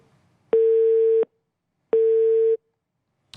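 A telephone busy signal sounds after a dropped phone connection: two loud, steady beeps of under a second each, separated by silence, with no voices.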